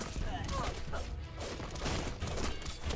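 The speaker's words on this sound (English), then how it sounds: "I love how his friend's just shooting me while I'm up here" Enemy gunfire in the Biomutant action game: a dense, continuous fusillade of shots and thuds aimed at the player character, loud and busy throughout, mixed with other combat effects.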